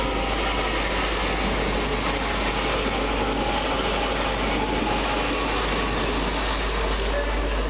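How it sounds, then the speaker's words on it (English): A Great Western Railway class 800 train runs through Reading station with a steady, loud rolling rumble and engine drone. The noise holds constant throughout without any breaks. "quickly following in its heels is 800 313, working the slightly delayed 1348 Great Western Railway service from Swansea to London Paddington"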